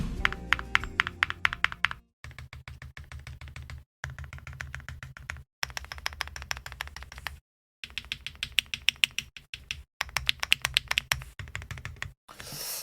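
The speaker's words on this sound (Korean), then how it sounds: "타이핑 테스트 해보러 가보시죠" Rapid typing on a QK Alice DuO mechanical keyboard, dense bursts of crisp clacks and thocks broken by short pauses, close and clear with no talking.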